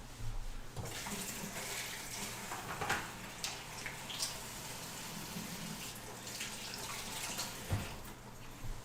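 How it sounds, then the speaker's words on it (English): Water from a kitchen tap runs steadily while fingers are rinsed under it, a soft continuous splashing hiss, close but quiet, lasting throughout with small irregular splashes and no talking. "I'm going to quick rinse my fingers off here"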